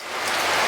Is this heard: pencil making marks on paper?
no